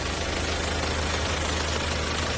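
A 2016 SsangYong Turismo van engine idling, a steady low rumbling drone with a rough mechanical texture, heard close and unchanging.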